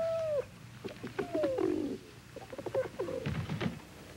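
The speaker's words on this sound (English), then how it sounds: "Lassie, you believe in your pigeon, and I'll believe in mine" Pigeons coo in a series of soft, low calls at fairly close range, with a few rising whistle-like tones early on and some scattered background rustle.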